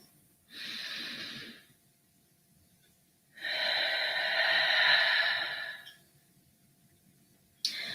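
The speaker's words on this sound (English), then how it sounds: "You just take a couple deep breaths in with me." Two deep breaths drawn in and let out slowly during a morning prayer, a short inhale followed by a longer, fuller breath, close and clear with quiet between and no talking.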